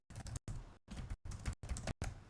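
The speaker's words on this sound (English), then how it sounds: "Nima's typing furiously." Fast, furious typing on a computer keyboard comes in dense bursts of clattering keystrokes, broken by brief gaps, close and fairly loud with no voices.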